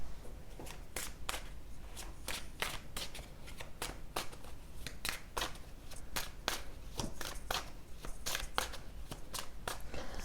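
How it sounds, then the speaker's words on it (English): Tarot cards are shuffled and pulled in a rapid series of crisp riffling snaps and flicks, close and fairly quiet, with no talking. "So I'm going to pull some more cards to see what else we have."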